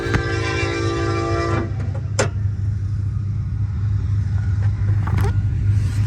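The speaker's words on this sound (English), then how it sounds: "There is a train driving by." A train rumbles past close by, with a steady low engine drone, squealing metallic tones early on and sharp clanks from the rail cars.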